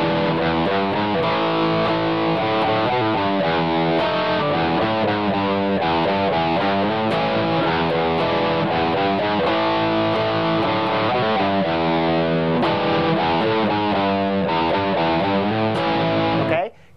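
Distorted electric guitar repeating the main riff of a song on a loop, a steady, dense, driving pattern that plays loud and continuous for about sixteen seconds before cutting off abruptly.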